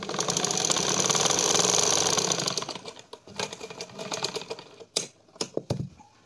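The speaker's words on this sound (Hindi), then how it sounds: "अब मैं इस पर सिलाई लगाऊंगी" A sewing machine stitches fabric during a tailoring lesson, running in a fast, loud mechanical rattle for about two seconds, then slowing into scattered clicks and short bursts close by, with no voices.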